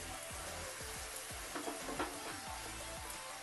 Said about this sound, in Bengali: ভালো করে একটুখানি মশলাটা কষিয়ে নিচ্ছি